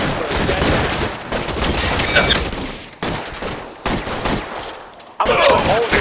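Gunfire in the crime video game L.A. Noire: a dense, continuous barrage of loud shots fills most of the stretch, broken by a few brief gaps before another burst starts.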